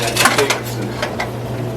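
A type casting machine at a letterpress museum shoots molten lead, held at 565 degrees, into a mold. Its sharp metallic clacks repeat quickly over a steady mechanical hum, close and loud.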